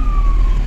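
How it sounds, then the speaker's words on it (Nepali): An ambulance siren on the road to Shimla wails loud and close over the rumble of traffic in a brief, steady tone. "अफसर हैन यो एम्बुलेन्स जानला छन्"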